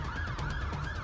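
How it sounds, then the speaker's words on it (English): A police siren wails close and loud, its pitch sweeping rapidly up and down in a repeating yelp. "We've got the lights on, we've got the sirens on."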